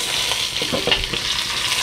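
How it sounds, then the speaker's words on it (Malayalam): Onions sizzle loudly in a kadai with ginger, garlic and chicken as they are stirred, a dense close frying hiss with a few quick scraping strokes. "നമുക്ക് ഉള്ളി ഇട്ട് കൊടുക്കാം"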